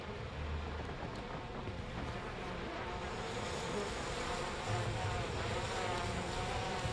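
Bees buzz in a continuous dense drone in We Happy Few, a swarm's hum that holds steady and close throughout with no voices.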